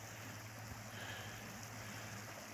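Lime Creek flows steadily beside a campsite along US Highway 550, a constant broadband rush of water that stays even and close throughout, with no voices.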